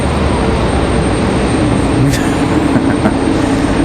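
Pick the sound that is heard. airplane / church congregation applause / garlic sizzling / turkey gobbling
airplane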